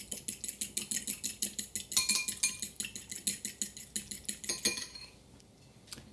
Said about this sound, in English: we're going to beat up our egg yolks